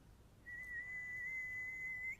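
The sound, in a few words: man imitating whistling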